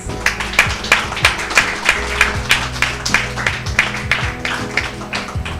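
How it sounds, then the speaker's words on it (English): Audience applause at a campus panel event, many hands clapping steadily, sharp claps standing out above a dense rolling patter that holds at a lively level throughout. "give our panel another round of applause"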